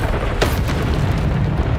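Depulsor spell cast in Hogwarts Legacy, a loud booming blast with a sharp burst near the start over a dense, continuous rumble of game effects.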